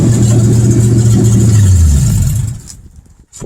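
A 1962 Mercury Comet's engine runs steadily up close, then winds down and cuts off about two and a half seconds in, leaving near silence with a faint thump.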